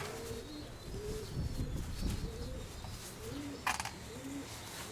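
White-tailed racing pigeon cooing in a loft, soft repeated low coos from nearby, with a brief rustle or flutter near the end.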